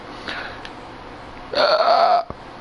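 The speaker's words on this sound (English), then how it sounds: "that was, like, in between a burp and a hiccup" A single short, voiced belch with a hiccup-like catch bursts out loudly and close after a quiet stretch, with a tiny click just after.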